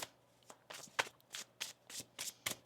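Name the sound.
shuffling a deck of tarot cards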